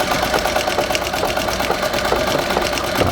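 A Singer 201-3 sewing machine on a treadle stitches canvas in a fast, even mechanical chatter of needle strokes, close up and loud.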